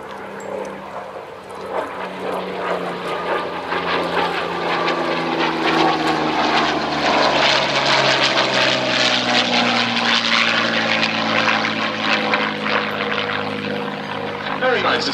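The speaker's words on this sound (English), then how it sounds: "with the Yakovlev Yak 3" A Yakovlev Yak-3 propeller fighter drones overhead at East Kirkby, its piston engine building from a distant hum to a loud sustained roar with shifting pitch as it passes, a voice talking over it.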